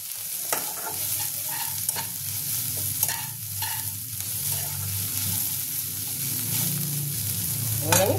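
Crushed garlic fries in a pan with a steady, fairly loud sizzle, while a spoon stirs it in repeated scraping strokes throughout.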